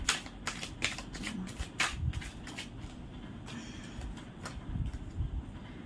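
A deck of tarot cards being shuffled up close, a run of quick riffling flutters and crisp snaps in irregular bursts, with no talking.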